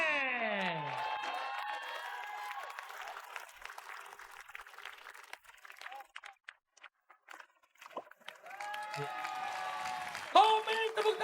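Studio audience claps and cheers during an Indonesian comedy show, with bursts of applause mixed under a host's talking, swelling loudly again near the end.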